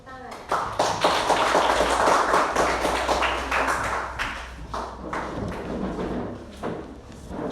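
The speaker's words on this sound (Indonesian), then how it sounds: "Tepuk tangan" A classroom group claps hands together in a sustained burst of many quick, overlapping claps, loud and close, with children's voices mixed in and the clapping thinning toward the end.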